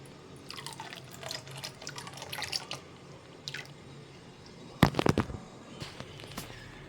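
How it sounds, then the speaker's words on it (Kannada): Water poured into ragi (finger millet) porridge, heard as scattered close drips and light trickles that build to a short burst of splashing, then ease back to a few drips. "ನಮಗೆ ಎಷ್ಟು ಬೇಕೋ ಅಷ್ಟು ನೀರು ಹಾಕ್ಕೊಂಡ್ರೆ ಸಾಕಾಗುತ್ತೆ"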